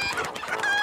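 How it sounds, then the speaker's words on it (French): Chickens clucking in a brief, close burst of overlapping cackles and squawks from several birds, fairly loud with no talk. "ça en fait des poulets"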